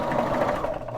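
A Baby Lock Vibrant sewing machine stitches toddler pajamas, a fast, steady mechanical whir running close and continuous for the whole moment.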